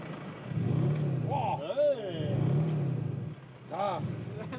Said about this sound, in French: tu voulais entendre le son de mon amplificateur